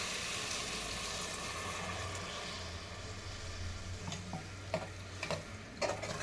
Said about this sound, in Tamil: இப்போ வந்து தேங்காய் பால் ஊற்றிக்கலாம்